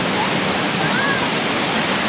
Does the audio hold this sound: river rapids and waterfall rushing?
yes